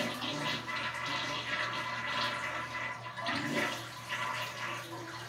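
A 1989 American Standard Cadet toilet flushes with a steady, rushing swirl of water that keeps going throughout, with gurgling surges and no talking.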